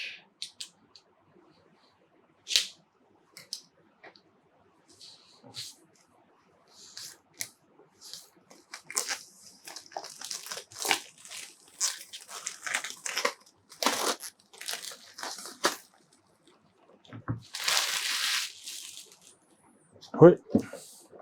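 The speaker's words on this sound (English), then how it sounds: "let's take a look at what's in here by first taking off the plastic" Plastic shrink wrap is peeled and torn off a board game box, producing close, intermittent crinkling and crumpling bursts with quiet pauses, growing busier toward the end.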